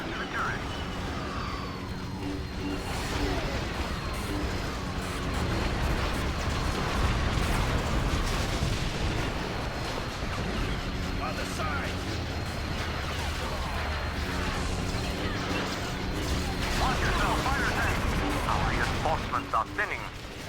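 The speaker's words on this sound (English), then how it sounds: "a lot of grenades" Grenade explosions burst through a dense, continuous Star Wars Battlefront 2 battle on the Rhen Var Trenches mod map, layered with gunfire and constant combat noise at a steady high level.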